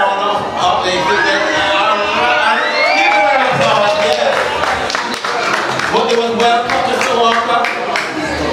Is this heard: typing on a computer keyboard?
no